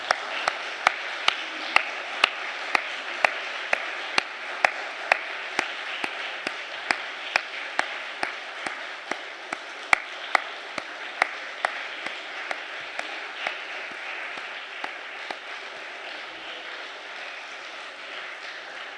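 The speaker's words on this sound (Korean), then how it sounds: "들어갈 때까지 박수 치겠습니다." A church congregation at a Friday evening service claps in a steady, regular rhythm, crisp unison beats repeating about twice a second over a soft room background, continuing without a break.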